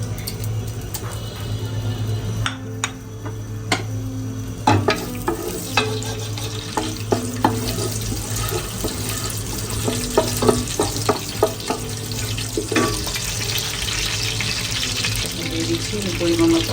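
Bay leaf and spices fry in a generous amount of oil, giving a steady sizzle broken by frequent close clinks and scrapes of a spatula stirring in the pan.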